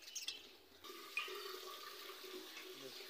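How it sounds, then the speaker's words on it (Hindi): Water pours onto dried-out plants in the morning, a steady splashing flow that runs throughout at moderate level. "देखो ये ना पानी डाल रहा है सुबह सुबह।"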